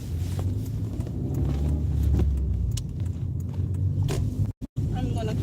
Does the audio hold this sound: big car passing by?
yes